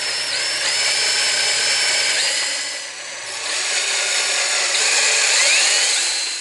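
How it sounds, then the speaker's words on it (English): A power drill bores through the metal tube of a single-wheel bike trailer, a close, high-pitched steady whine that dips briefly midway before resuming, no speech. "I'm going to drill another hole right through the tube on each side."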